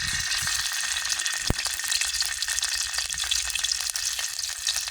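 Garlic and ginger paste sizzles in hot oil in a pan for a Bengali fish curry with tengra fish and Malabar spinach, a steady, bright frying hiss close up with no talking.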